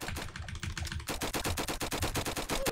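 Minigun fire from Roblox Flag Wars rattles in a dense, fast, unbroken stream of loud, close shots, holding a steady machine-like rhythm from start to finish.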